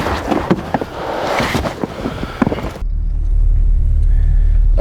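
A 1983 Toyota Tercel 4x4 car drives in winter; close handling noise and rustling give way to a steady, loud, low engine rumble.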